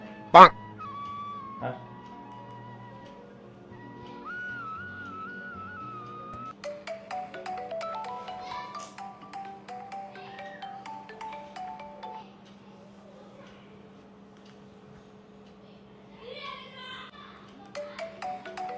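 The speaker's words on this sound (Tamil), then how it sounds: "ஃபோன் அடிக்குது பாருமா, எடுமா" A mobile phone ringtone plays a melodic tune at home, ringing for a long stretch while adults and children talk over it.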